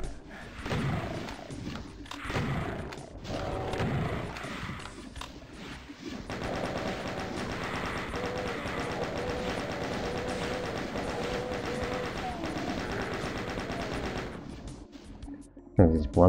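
Rapid gunfire and exploding barrels fill the clip in the video game DOOM II: Master Levels, dense and sustained, with a few sharp bangs at the end.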